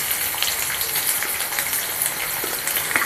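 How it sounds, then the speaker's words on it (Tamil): Chopped onions fry on a hot dosa pan for a ghee roast podi masala dosa, a dense, steady close-up sizzle that continues without pause. "இந்த ஆனியன்ஸ் இருக்கு இல்லையா இதை அதில் போட்டுடலாம்"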